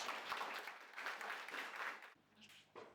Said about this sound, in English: Everybody give a big applause for Josh Sim.